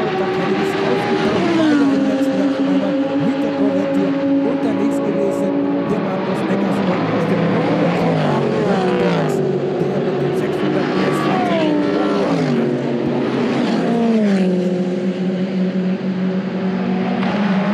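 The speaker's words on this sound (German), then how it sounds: "Das ist dann die Chevrolet Corvette mit Jürgen Bender." A Chevrolet Corvette race car at Oschersleben during an STT race, its engine loud and sustained as it revs up and down through gear changes, with other cars nearby and a commentator talking over it.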